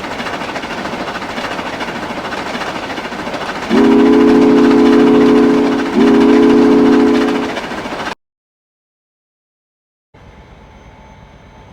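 Two long blasts of a steam locomotive whistle, loud and close over a rumbling train, then the sound cuts to silence before faint noise returns.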